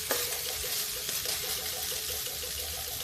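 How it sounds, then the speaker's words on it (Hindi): Vegetables fry gently in a covered pan with steam, giving a soft, steady sizzle with light stirring clicks and scrapes, fairly quiet and without talk. "इसे भून लेते हल्का हल्का सा स्टीम में।"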